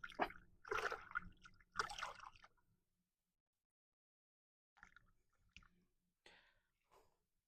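A scallop shell being rinsed in canal water in West Palm Beach, Florida, giving a few close splashing, trickling bursts, then a silence and some softer drips and clicks.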